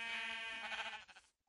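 Sheep bleating in Minecraft, one wavering harmonic bleat that starts loud and up close, then breaks into a quick tremolo near its end before fading to silence.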